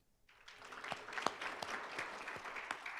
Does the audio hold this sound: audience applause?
yes